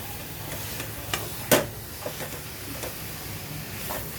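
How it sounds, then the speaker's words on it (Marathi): Washed eel pieces are stirred into masala sizzling in a pan, with a soft continuous fry under scattered scrapes and one sharp clack of the spoon against the pan. "आपले वाम स्वच्छ धुवून घेतलेले आहेत मिक्स करू व्यवस्थित"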